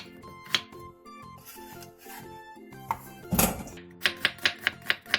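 A knife chopping radish into thin slices on a board, a quick run of six sharp, evenly spaced taps at the end after scattered cuts and rubbing sounds, with soft background music throughout.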